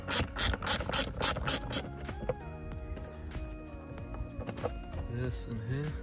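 Ratchet clicks come in a quick rhythmic burst, close up, as a part of the air intake is unscrewed on a Volkswagen Golf R Mk7 with an EA888 engine. Scattered tool and metal clatter follows, and a voice talks over it.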